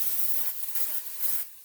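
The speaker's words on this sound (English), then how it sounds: "I'm going to spray it with cooking spray." Cooking spray hisses onto a pan for crepes in three short, soft bursts, close by with brief gaps between them.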